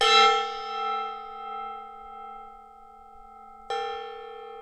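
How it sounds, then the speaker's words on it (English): A decorative gong is struck once, blooming into a loud, shimmering metallic ring that slowly fades, then hit again near the end with a fresh bright crash. No one speaks. "I have this gong. It's a decorative gong,"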